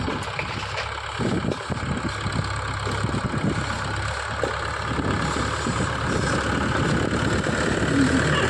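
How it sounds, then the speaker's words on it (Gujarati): A tractor engine runs steadily as it drives along a village farm track, a continuous mid-pitched rumble that stays fairly loud and even throughout, with no voices. "સંજુ ટ્રેક્ટર આ બાજુ લઈને આવે છે થોડુંક આગળ"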